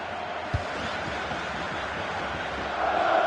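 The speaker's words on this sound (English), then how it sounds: "And you have to say the crowd have been brilliant. They're still driving the team on." A football video game stadium crowd in FC 26 keeps up a steady, broad roar of cheering and chanting. One faint thump lands early, and the noise swells slightly toward the end.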